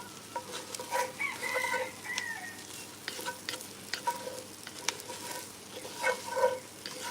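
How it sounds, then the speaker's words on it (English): Food sizzles and fries in oil in a pot while being steadily stirred, with scraping clicks repeating throughout; a rooster crows in the background. "I'm steadily stirring in this."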